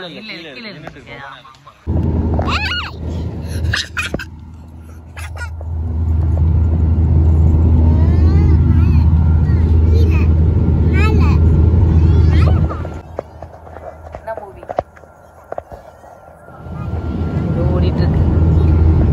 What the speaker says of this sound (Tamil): நம்ம போக போகிற ஃப்ளைட் இதுதான். அது மூவ் ஆகிட்டு இருக்கு.